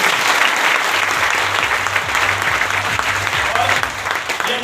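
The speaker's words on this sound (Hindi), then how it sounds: "एक बार तालियां बजा सकते हैं" Audience applause at a Hindi-language RCM business gathering, a dense, steady wash of many hands clapping for nearly five seconds, with a faint low hum running underneath.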